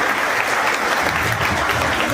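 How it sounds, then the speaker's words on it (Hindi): Steady clapping from an audience at a wedding ceremony in which a woman is married to Lord Shiva, a dense, continuous patter with no voices over it. "सब एक बार और ताली बजाएंगे"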